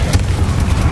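Confringo fire spell blast in the video game Hogwarts Legacy, a loud low rumbling boom that sustains over a brief second with crackling texture on top.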